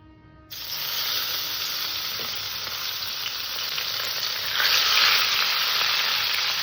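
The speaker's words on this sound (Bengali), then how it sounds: "সর্বপ্রথমে আমি মাছটাকে ভেজে নেব কড়াইটা গরম হয়ে গেছে মাছ ভাজার জন্য তেল দিয়ে দিলাম" Swarnaputi fish, salted and turmeric-rubbed, dropped into hot oil in a wok: a sudden loud sizzle bursts in and keeps crackling steadily, swelling briefly louder near the end.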